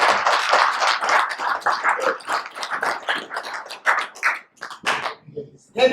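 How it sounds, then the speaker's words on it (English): A small group at a political party press briefing claps, sharp separate slaps bunched close together in an uneven rhythm that thins out into a few last claps after about five seconds. "a hand of applause."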